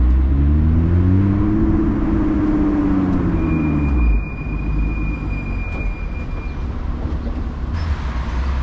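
A Lotus 3-Eleven sports car drives through Eindhoven city streets, its engine a loud, steady roar that rises in pitch and then drops to a lower, rougher drone partway through, heard up close from the cockpit.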